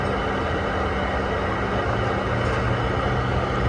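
A Toyota Prius engine is revved, producing a loud, steady, broadband mechanical roar that holds for several seconds close to the microphone, with no talking.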